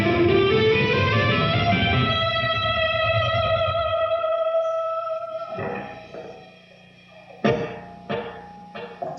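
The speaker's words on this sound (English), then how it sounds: "It's always good to have a little echo on sometimes because it sounds a little like you're in a larger room" Electric guitar picks out scales with a delay echo effect, sustained notes rising and ringing with repeats, then a few separate plucked notes near the end, played alone and fairly close.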